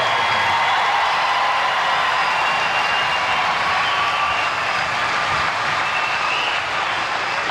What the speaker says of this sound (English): How about another huge round of applause for this incredible